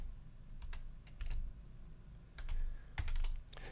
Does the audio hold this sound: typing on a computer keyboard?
yes